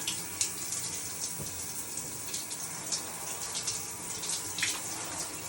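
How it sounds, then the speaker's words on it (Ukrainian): Water runs from a large spa shower in a steady, continuous hiss and splash, heard close up with no talking. "Зараз ми чекаємо, поки протече холодна водичка."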